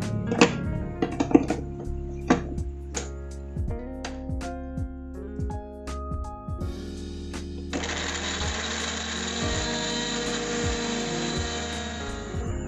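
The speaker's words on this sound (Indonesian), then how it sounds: "Kemudian kita akan blender." A kitchen blender whirs carrots with milk. Clattering taps and rising motor tones give way to a loud, steady high-pitched spin.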